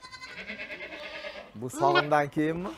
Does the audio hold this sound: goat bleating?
yes